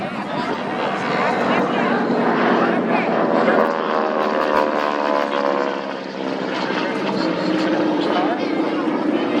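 A North American SNJ Texan trainer, flown in race configuration at an airshow, passes along the show line with a loud, sustained propeller-engine drone that swells and shifts in pitch, while a commentator talks over it throughout.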